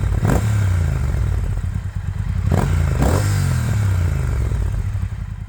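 A Triumph Speed Twin 1200 motorcycle fitted with Akrapovic slip-on exhausts and a Motone X-pipe rumbles loudly and steadily at close range, with a few sharp blips and pops breaking through the low, throaty idle.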